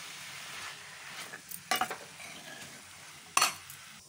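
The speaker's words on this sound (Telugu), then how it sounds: "మంచిగా కట్ చేసి పెట్టుకున్న సొరకాయ ముక్కలు వేసేయాలి. వేసి బాగా మిక్స్ చేసి" Chopped bottle gourd pieces stirred and tossed in a pan for a Telugu-style curry, giving a faint sizzle with a few sharp clinks and scrapes of a utensil against the pan.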